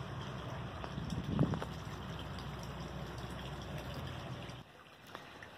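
A homemade pinwheel-driven air pump bubbles air into water for fish, giving a steady wash of gurgling, bubbling water with a brief louder splash, then quieter near the end.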